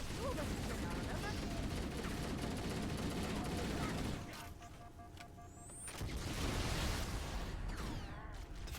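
Dense, continuous gunfire from Halo: The Master Chief Collection combat, dropping off briefly midway before resuming amid mechanical clatter and in-game voices.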